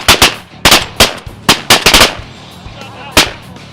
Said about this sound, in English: Whoever shot that winger? Good shot, Larry!